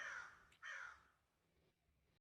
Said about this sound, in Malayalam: ക്രോ,